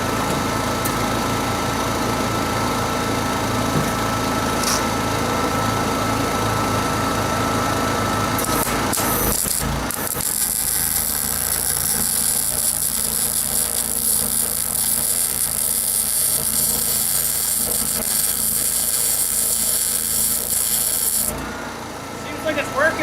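A Miller 212 MIG welder running off a 7k Honda generator gives a steady, loud crackling buzz for about ten seconds. Before the bead there is a humming, rubbing background, and the sound stops abruptly at the end.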